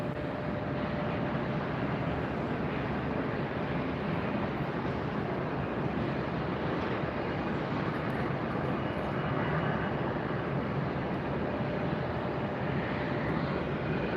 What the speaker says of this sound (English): Our first one is making its roll.